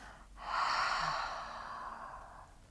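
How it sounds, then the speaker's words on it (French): A single slow, breathy exhalation through an open mouth during a back-relief exercise, close and soft, rising quickly and fading gradually over about two seconds. "et on expire par la bouche ouverte."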